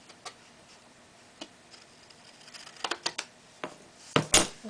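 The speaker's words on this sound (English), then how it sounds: "I actually like to use my big scissors. This way I can cut in one swoop." Large scissors cut excess embossing material in a quiet room: scattered light ticks and clicks build to a couple of sharp, close snips at the end.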